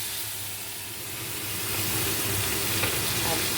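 Onion hitting hot oil with cumin tempering in a pan for a light fish curry, a steady broadband sizzle that swells after the first second and stays close and continuous, with faint stirring.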